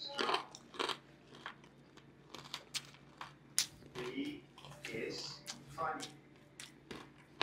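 Crunchy fried lumpia shanghai being bitten and chewed close up, with repeated sharp crackling bites and crunching spread across the clip.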